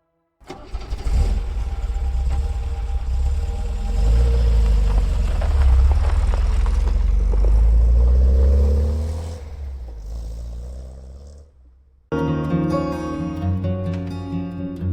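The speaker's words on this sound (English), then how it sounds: "As the car sped away" A car engine starts and revs, holding a loud, steady roar before fading away into the distance, followed by a sudden cut to a different sound.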